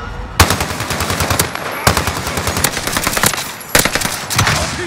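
Sustained automatic gunfire in a competitive online shooter, loud and close, with dense rapid volleys broken by a few sharp gaps before resuming.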